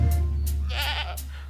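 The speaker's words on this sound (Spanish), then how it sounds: "llevaba una cabra." A cartoon goat gives one wavering bleat in the middle of a short clip, with a steady low hum beneath it and no talking.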